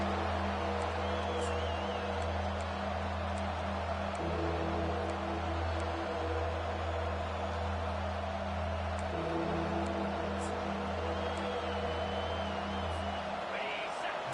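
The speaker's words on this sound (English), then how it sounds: "Decibels rising as the crowd gets behind this defense on 3rd down." Football stadium crowd at a college game between FSU and Ohio State roaring behind the defense on third down, a sustained dense wall of cheering under a steady tonal hum.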